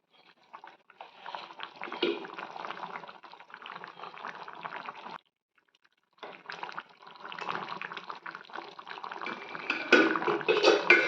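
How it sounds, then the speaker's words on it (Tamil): A pot of pudalangai kootu, a snake gourd stew, bubbles and simmers on the stove in a steady, close bubbling hiss that drops out briefly midway and then returns louder. "தாளித்து சும்மா ஒரு 2 நிமிஷம் நல்லா கொதிச்சு வந்துச்சுன்னா நம்ம இறக்கிடலாம்."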